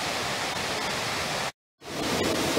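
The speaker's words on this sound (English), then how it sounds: "This is waterfall number two. And now in the winter, there's a lot of water." A waterfall swollen with winter water roars as a steady, dense rush of close, loud noise, broken by one brief total dropout before the torrent resumes.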